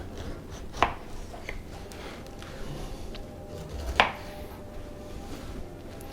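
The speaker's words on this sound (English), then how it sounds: "Man, I love this nice sharp knife. All right, then we're going to cut it in half." A sharp kitchen knife cuts through fruit on a cutting board, two distinct crisp chops several seconds apart, close and clear against quiet room background with no talking.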